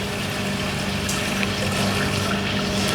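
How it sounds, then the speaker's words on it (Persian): Water pouring into a cooking pot, a loud, steady, continuous rush and splash close by, lasting the whole moment with no talk over it. "آبو میریزیم"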